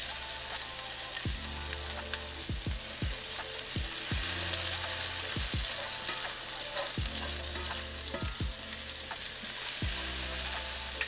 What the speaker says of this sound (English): you know, kind of get those onions in there. And get them caramelized.